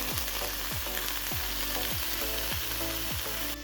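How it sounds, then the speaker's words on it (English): Ground turkey fries steadily in a pan with a constant close sizzle, while a utensil scrapes through it in regular strokes about every half second. "while I cook the ground turkey"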